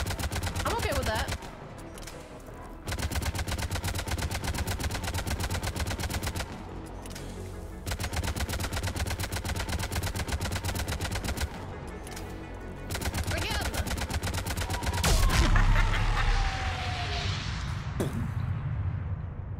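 Rapid automatic weapon fire in Mass Effect 3 comes in long, loud bursts separated by short pauses, with a voice speaking faintly between the volleys.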